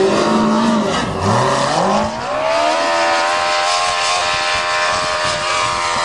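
A motorcycle-powered dune buggy drives through snow, its engine dipping, then winding up into a steady, loud high-revving whine close by.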